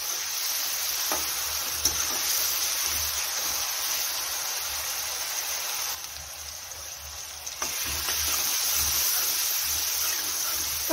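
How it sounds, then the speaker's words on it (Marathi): Chopped onion fries in hot oil with salt in a pan. A steady, loud, close sizzle runs continuously with brief stirring scrapes. "तर इथंच टाकून घेऊया चवीनुसार मीठ तेलामध्ये, म्हणजे कांदा लवकर आपला फ्राय होईल."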